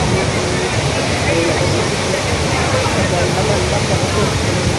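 Athirappilly waterfall thunders as a dense, continuous roar of rushing water, loud and close, with voices blended into the steady wash.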